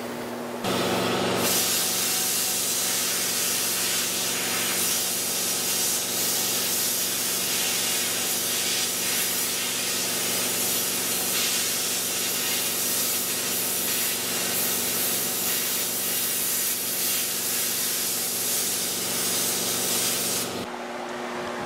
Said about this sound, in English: instead I just used the plasma cutter, and I would just run the plasma cutter until it would duty out